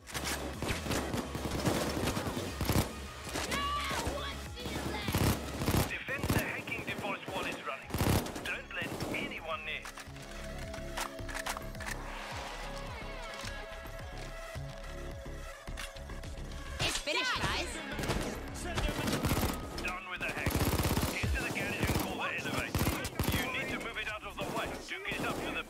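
Bursts of rapid automatic gunfire and heavy shooting from the heist game Payday 2 run continuously across the stretch, with loud volleys and a dense mid-section, while someone talks over the combat now and then.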